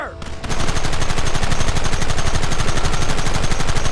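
Rapid bursts of game gunfire from Red Dead Redemption, loud and relentless, rattling like a machine gun after a brief quieter start.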